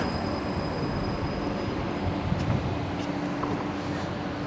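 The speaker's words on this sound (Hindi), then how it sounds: "यहीं पे आकर ट्रैम रुकेगी, यहीं पे मुझे वेट करना है। ये लो आ गए भाई ट्रैम।" A tram pulling into a stop in Moscow, a steady close rumble of wheels on rails with faint squeals throughout.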